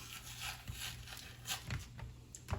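Faint rubbing and tearing sounds as the membrane is peeled off pork ribs, with soft scraping strokes, up close and quiet, with occasional small knocks and no talking.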